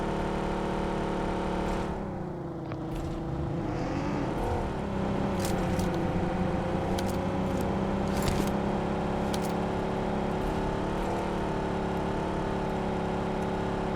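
A car engine in PUBG Mobile on the Erangel map drones steadily, its pitch climbing as the revs rise around the middle, then holding a continuous whirring hum with no talk over it.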